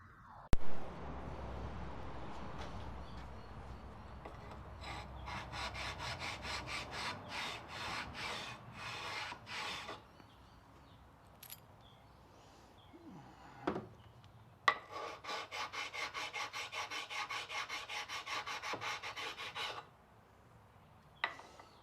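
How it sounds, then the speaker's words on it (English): A sharpening stone lightly rubbed along the threads of a lathe lead screw, producing two extended runs of rapid back-and-forth scraping strokes separated by quieter pauses and a few clicks, close and fairly soft. "what I'm just doing is a very light stoning"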